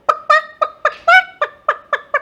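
A human voice imitates a chicken or rooster with about nine short, evenly spaced, nasal clucking calls, loud and close with no other sound.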